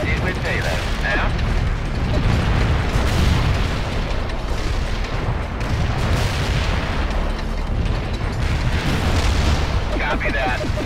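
A heavy artillery barrage in the real-time strategy game World in Conflict rumbles continuously with repeated booming blasts and mechanical clatter, while voices talk over the bombardment.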